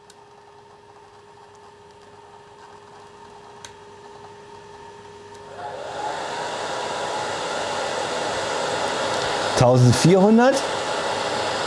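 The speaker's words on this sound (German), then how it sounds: "jetzt schalte ich mal noch den Föhn mit dazu" A hair dryer on its normal setting, powered from an ALLPOWERS R2500 2500W power station, switches on midway and blows as a steady broadband whoosh over a low hum, with a brief louder burst near the end.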